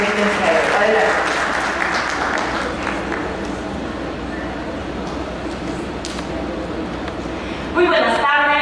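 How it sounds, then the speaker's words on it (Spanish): Applause for a teacher at a school event at I.E. 1204 Villa Jardín: broad clapping from an audience, strongest at the start and thinning out, under a voice that speaks near the end. "le damos un fuerte aplauso a nuestra profesora"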